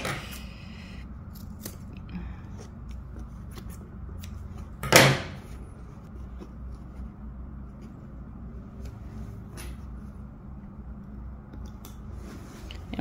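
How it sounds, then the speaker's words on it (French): Scissors trim excess fabric from a seam allowance while a summer tote bag is sewn, a single short crisp snip standing out against quiet room background. "je peux couper mon surplus"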